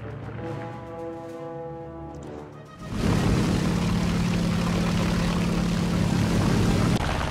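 A War Thunder aircraft engine with a reported engine problem roars in as a loud, steady propeller drone, the throbbing hum taking over abruptly after a quieter tonal stretch and holding unbroken to the end.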